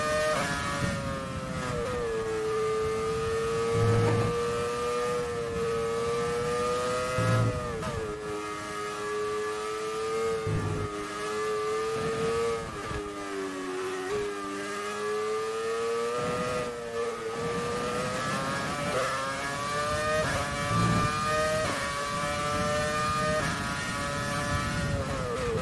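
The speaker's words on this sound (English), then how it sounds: "This car sounds so good though." Formula 1 race car engine in the F1 2020 video game, a continuous high-pitched whine that rises and dips as the car accelerates and lifts through corners, with faint thumps beneath and no talk.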